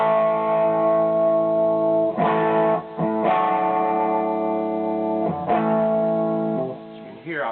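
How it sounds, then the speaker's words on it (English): Electric guitar played through a BJFe Dyna Red Model R distortion pedal set to low gain, sustained mildly crunchy chords ringing out and changing every couple of seconds, clear and upfront with no talking. "I'm going to take the distortion all the way down and see what kind of low gain action we can get."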